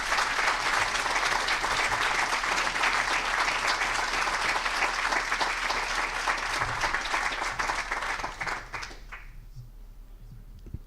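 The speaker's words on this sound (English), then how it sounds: "I'd like a big round of applause." An audience claps steadily and loudly for several seconds after a presentation before the applause fades out near the end.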